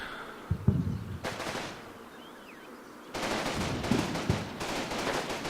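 Gunfire rattles through a video game battle as squads move up around houses, with a bright burst, then a quieter stretch with a faint ricochet-like whine, then a long sustained volley of rapid shots.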